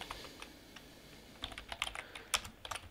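Typing on a computer keyboard while entering a folder name in Google Drive, light scattered key clicks at first, then a faster, louder cluster of taps near the end, close and alone without speech.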